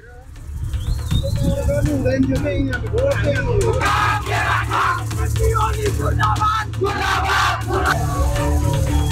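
A crowd of protesters clashing with riot police in Kathmandu while marching toward the parliament building: loud, continuous shouting and chanting voices with sharp bangs and clatter of thrown objects throughout.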